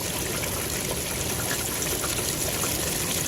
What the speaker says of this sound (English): sand's still flowing down, and that is the last of the sand